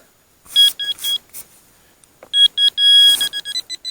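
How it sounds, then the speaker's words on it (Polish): A metal detector sweeping ground while digging for finds in Pomerania gives sharp electronic beeps, first a few short bursts, then after a pause a louder run of rapid pulsing tones and one sustained tone, with no talking. "No tutaj, kurde, przepiękny sygnał."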